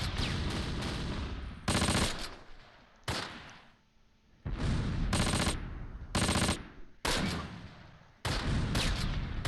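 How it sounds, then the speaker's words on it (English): Mortar fire in the Close Combat war game: repeated loud explosive bursts and crackling blasts in rapid clusters, separated by brief quieter gaps, with no voices. "Uh-oh, they're mortaring again?"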